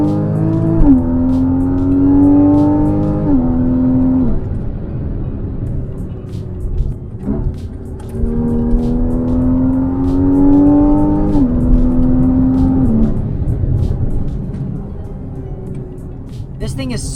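A 2016 Porsche Boxster GTS with a 3.4-liter flat-six engine, heard from inside while driving as it accelerates twice with rising revs and upshifts, each pull followed by a drop to a lower hum.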